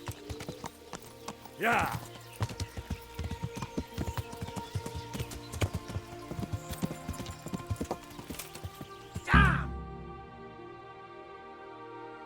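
Horse hooves clip-clop steadily on the ground in the medieval game Kingdom Come: Deliverance, with two brief whinnies, one near the start and a louder one near the end, while a voice speaks over the hoofbeats.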